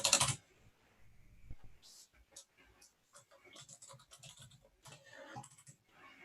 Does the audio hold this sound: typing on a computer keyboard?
yes